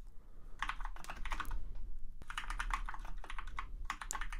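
Rapid computer keyboard typing in steady bursts of keystrokes with a brief pause midway, close and clear, with no talking.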